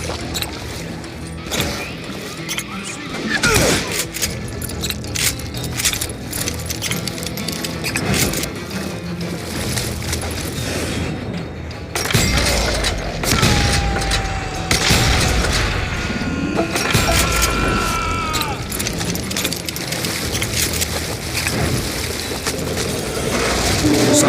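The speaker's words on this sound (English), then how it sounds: "a fusillade of bullets come raining down from on high" A volley of gunfire rains down from above in the Wild West shooter Call of Juarez Gunslinger, with sharp cracks and booms scattered through a busy, noisy game mix, and a narrating voice speaking over it.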